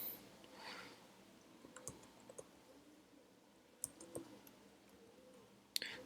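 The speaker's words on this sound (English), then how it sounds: "So just type in here" Typing on a computer keyboard while filling in an Azure portal form, with quiet, sparse key clicks in irregular bursts and a few sharper taps, close but faint against a hushed room.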